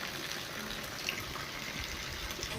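Rain falling, with water running off the edge of a roof, a dense, even hiss of drops and runoff that holds steady for the whole stretch.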